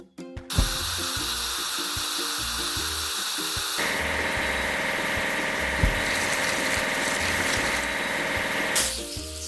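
Spray of water washing an excavator in a cartoon vehicle-building game, a steady hissing jet lasting several seconds over a mechanical engine-like drone and light game effects, with no talking.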